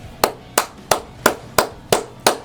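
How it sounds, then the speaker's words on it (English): Seven sharp, evenly spaced hand claps ring out one after another in a steady rhythm, loud and close, with nothing else around them. "Round of applause"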